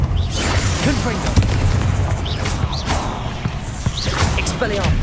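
Confringo blasting spell explosions in the Hogwarts Legacy video game: repeated booming blasts and whooshes in a busy combat mix, with a voice shouting spell names over the top.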